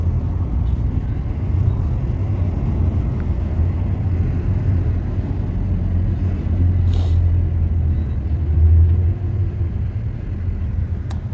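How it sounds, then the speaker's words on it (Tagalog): Continuous road traffic with trucks, a dense low rumble that holds steady throughout, with a brief higher hiss partway through that could be an air brake. "Traffic, grabe."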